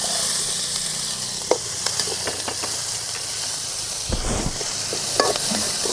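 Green chillies and onions sautéing in a pan give a loud, steady sizzle and hiss, broken by a few soft knocks and scrapes of stirring.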